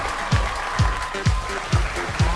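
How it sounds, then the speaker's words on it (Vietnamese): A studio audience claps steadily at a Vietnamese dating show, over a thumping rhythmic beat. "Vỗ tay thật lớn lên quý vị ơi."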